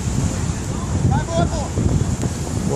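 Wind at a beach footvolley game roars steadily across the microphone, loud and close, with people's voices heard faintly underneath.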